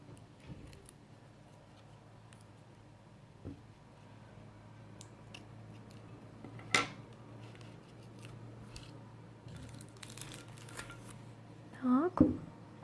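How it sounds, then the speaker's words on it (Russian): Scissors snip through masking tape during a paper-tube hat weaving project, with quiet scattered clicks and sharp cuts amid rustling, close and fairly faint, under a woman's soft speech. "Просто разрезаю малярный скотч."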